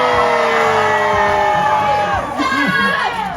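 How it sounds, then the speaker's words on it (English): Crowd at an outdoor lumberjack show with axe throwing and log rolling cheers, whoops and shouts loudly, a close mix of adult and children's voices over steady noise. "you guys keep cheering"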